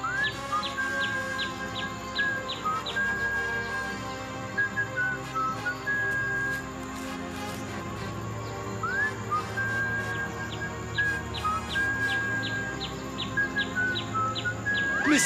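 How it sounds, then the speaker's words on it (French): A whistled call in a French Little Red Riding Hood cartoon: repeated bright, rising whistle notes over a busy musical and ambient background, sounding in short bursts throughout. "Mais c'est mignon comme tout, ce que tu nous siffles là."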